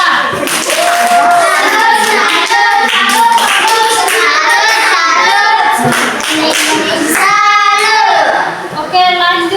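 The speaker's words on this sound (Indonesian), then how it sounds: "tepuk salam dulu untuk kelompok" Schoolchildren in an Indonesian language class give a rhythmic clap-greeting for a student group, with many young voices chanting in unison over steady, loud clapping throughout.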